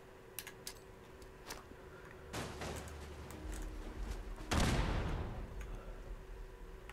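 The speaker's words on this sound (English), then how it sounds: "Okay, fine. We use a grenade." A grenade going off in Fallout 76, heard as two broadband bursts with a deep rumble trailing after each against a quiet background, the second blast louder and heavier.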